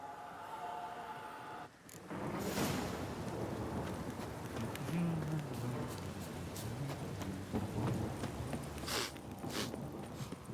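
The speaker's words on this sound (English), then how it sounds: "Look, this downpour's a bastard, it is." Heavy rain pours steadily in The Witcher 3 video game, with a low rumbling wash, soft thumps and a few sharper knocks scattered through the downpour.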